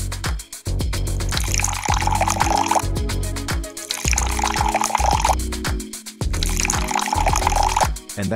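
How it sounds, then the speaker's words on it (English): Water from a small relay-switched pump in a homemade ESP8266-controlled plant watering system splashes and gurgles loudly in repeated bursts, with dripping and filling sounds close by and no speech. "see if the relay activates and the water pump starts"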